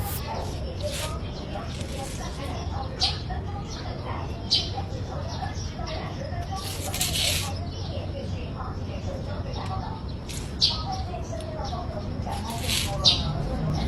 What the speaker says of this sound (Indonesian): Setiap pagi kayak gini yang aku dengar cuman suara burung yang berkicau